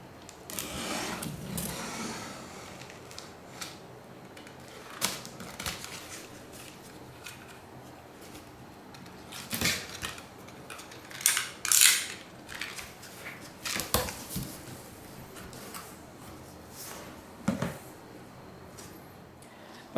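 A penknife slices open the cardboard box of a Canon PIXMA G3020 printer, with scattered scraping, tearing and crinkling bursts and sharp cuts, close and moderately loud with no talk.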